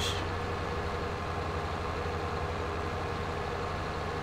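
Truck engine idling in the farming game Landwirtschafts-Simulator 22, a steady low rumble that holds at a constant level throughout, with no talk over it.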